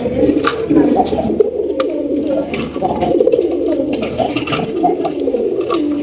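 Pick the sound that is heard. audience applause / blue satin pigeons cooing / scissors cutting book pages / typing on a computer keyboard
blue satin pigeons cooing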